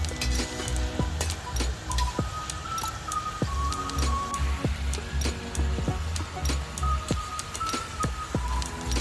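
Rice kurkure fry in hot oil with a loud, constant bubbling sizzle, while sharp ticks and scraping clinks from a utensil come through at irregular moments.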